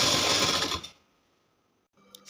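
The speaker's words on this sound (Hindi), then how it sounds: "इसी तरीके से हम सिलाई लगाते चले जाएंगे।" A sewing machine stitches lehenga blouse fabric in a fast, close, steady whir that runs for about a second and then stops, leaving near silence before a faint handling noise.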